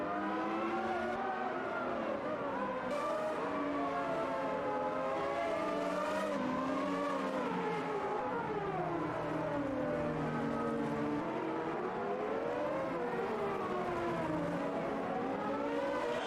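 Formula 1 race cars from 1991, a McLaren and a Tyrrell, in the Automobilista 2 racing game: high engine whines sweep up and down with gear changes and run loud and continuous close by, with no talking.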